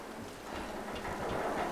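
Steady rain falls in the video game Tomb Raider (2013), a soft, even hiss of downpour with a low rumbling undertone, fairly quiet and continuous throughout.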